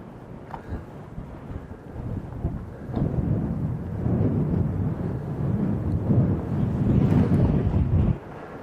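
Steady wind gusts buffet the microphone on a mountain saddle near Quartzsite, with a low rumbling roar that strengthens partway through and cuts off abruptly near the end.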